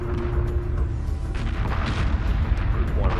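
In Homeworld 2 Remastered, a hyperspace gate explodes under fire. The deep, rumbling booms roll and layer over one another with sustained heavy low-end crackle, and a voice is briefly heard in the mix.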